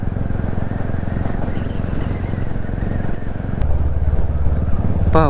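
A Royal Enfield Classic 350 with a changed exhaust thumps steadily while being ridden, its low pulsing engine note loud and continuous. The tone shifts slightly lower and heavier partway through, with wind noise over it.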